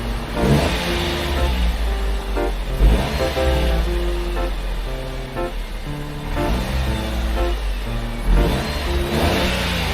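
A Daihatsu Hijet panel van engine runs steadily nearby, with a low rumble and a repeating mechanical pattern that rises and falls over several seconds.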